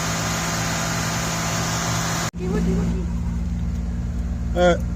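A 1989 Buick Reatta engine is stuck in a runaway high idle, humming at a steady raised pitch. A loud broadband roar cuts off abruptly midway, leaving the steadier engine drone underneath.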